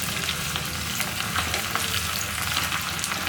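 Small onions and green chillies fry in hot oil, a dense continuous crackling sizzle, close and even, with no talk over it.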